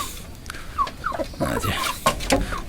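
Pahari hill hen and Laijja rooster close by: short clucks and squawky calls in quick bursts over a soft rustle of handling, moderately loud.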